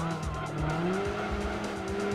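Toyota race car in Gran Turismo 2, engine note steadily climbing in pitch as it accelerates, with tires squealing and skidding through a corner, loud and continuous.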